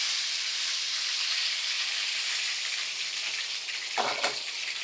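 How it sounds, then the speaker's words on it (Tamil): Curry leaves dropped into hot oil with mustard seeds, fenugreek and urad dal for karuvadu kuzhambu, a dense, loud, continuous crackling sizzle close up, with a brief sharper flare near the end and no voices. "இப்போ கருவேப்பிலை போடுங்க"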